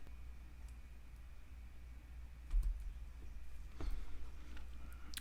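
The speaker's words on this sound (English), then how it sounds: "So we're just gonna type airline." Light keystrokes on a computer keyboard sound as a few sparse, soft clicks over a quiet background hum, with a slightly louder cluster of taps midway and no speech.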